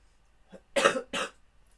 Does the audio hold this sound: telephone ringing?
no